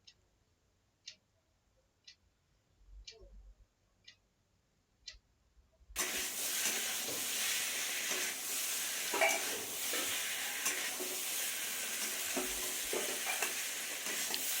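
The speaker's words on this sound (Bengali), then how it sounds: "আমি এখানে ভালো করে অনেকক্ষণ ধরে কষে নিচ্ছি" Spice paste for a tilapia fish curry with potato and kohlrabi is stirred and cooked down in a pan: a few faint quiet ticks, then a loud, steady oily sizzle that sets in abruptly and continues close up with soft scraping.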